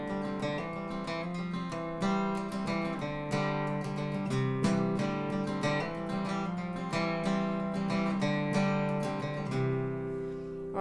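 An acoustic guitar strums chords from a song in a steady repeating pattern, with regular strokes and ringing strings, played alone at moderate volume.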